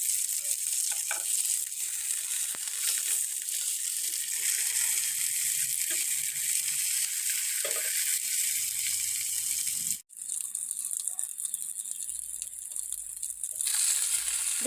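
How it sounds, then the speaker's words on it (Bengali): Chopped onion, chilli and garlic sizzle steadily in a pan, a bright, close frying hiss with faint stirring clinks, briefly cut off near the end and then resuming. "এখানে পেঁয়াজ কুচি, মরিচ এবং রসুন কুচি দিয়ে ভেজে নিব।"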